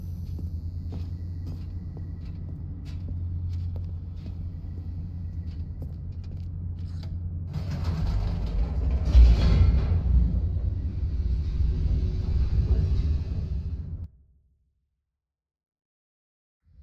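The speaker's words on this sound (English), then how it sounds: "The elevator raced downward, plummeting towards an unknown fate." An elevator descends in the video game The Stanley Parable, heard as a steady low motor hum that swells into a louder rushing rumble before cutting off abruptly into silence.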